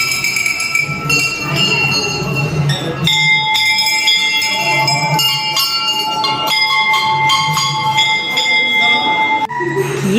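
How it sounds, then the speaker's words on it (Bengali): A temple bell rings repeatedly and loudly at a Hindu temple in Tarakeswar. Its bright metallic clangs overlap into a steady, sustained ringing with faint background murmur underneath. "ঘন্টা বাজাও ঘন্টা বাজাও"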